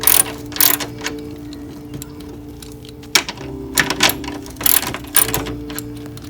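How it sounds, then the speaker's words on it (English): Coilover bolts being loosened with a ratchet wrench, giving bursts of close mechanical clicking and ratcheting that stop and start between quieter pauses. "Removing these two bolts,"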